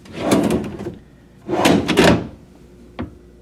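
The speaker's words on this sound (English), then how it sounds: "You do have drawers here, I just now noticed. Wow. Ooh, soft closing." A hotel desk drawer at a Hampton Inn & Suites slides open and closed twice in a row, each a broad rolling swish, followed by a soft, brief thud as the soft-closing mechanism settles it shut.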